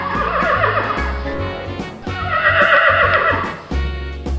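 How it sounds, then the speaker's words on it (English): A grey horse neighs loudly and close up, a long shaky whinny with a second rising call near the end, alone with no talk over it. "this is a grey color horse."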